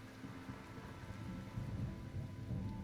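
Steady rain with low rumbling thunder in a Choices story scene, a continuous soft wash and faint distant rumble, no voices.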